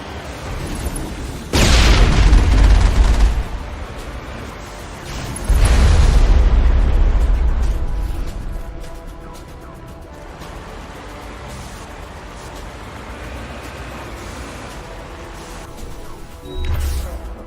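Heavy artillery blasts in the Xbox 360 game Mass Effect: two loud, deep booms a few seconds apart, each rolling off slowly, followed later by a third shorter thump over a low battle rumble.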